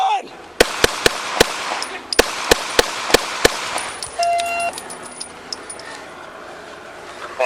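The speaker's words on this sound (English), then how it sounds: "Additional shots fired." San Diego police officers firing gunshots at an armed man outside a house, with about ten sharp, loud cracks in quick, uneven succession followed by ringing and radio beeps, with voices in the background.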